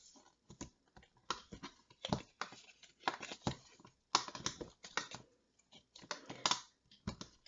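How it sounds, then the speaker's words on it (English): Card paper is creased with a bone folder while making a box card, producing quiet close-up scraping and tapping strokes in irregular short bursts separated by silence. "now I'm going to bring in the bone folder and just fold these nice and neat"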